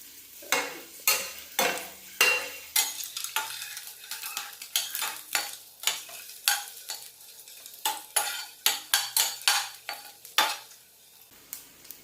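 Egg masala with chopped curry leaves is stirred and roasted in a pan: a rapid, uneven series of loud spatula scrapes and clacks over a soft sizzle, close by and without speech.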